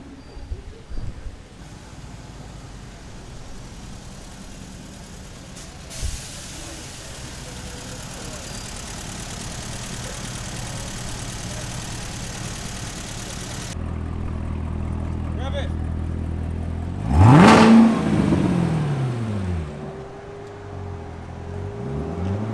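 Lamborghini Gallardo Super Trofeo race car, a full roll-caged competition machine at a concours event, idles with a steady low rumble, then rises into one sharp, loud rev near the end that swells and falls back, with crowd chatter throughout.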